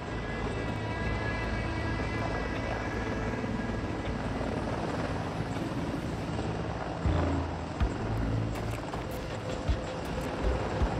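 Mil Mi-28 Havoc attack helicopter running steadily with a continuous loud rotor and turbine drone, a few brief louder bumps near the end, no talk.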